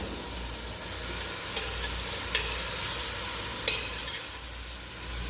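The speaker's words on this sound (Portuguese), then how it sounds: "Refoga bem a cebola." Onion sautéing in butter in a pan gives off a steady close sizzle throughout, with a few scraping stirs of a utensil breaking through, and no one talking.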